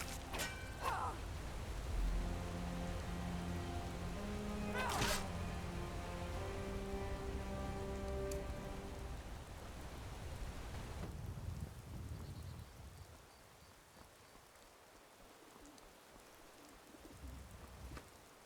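Rain in the video game Skyrim at Riverwood, a steady patter of drops under a tonal musical tune and bird calls, fading away to a quieter ambience in the final seconds.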